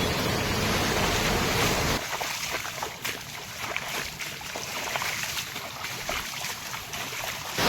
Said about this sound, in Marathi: समोर बघू शकता मस्तपैकी असा धबधबा पडतोय